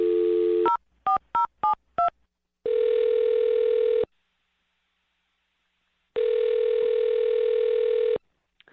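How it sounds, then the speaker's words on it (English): A telephone number is dialed with a short run of distinct touch-tone beeps, followed by two long, loud ringback tones separated by a silent pause, with no talking. "I'm going to dial this phone number right now"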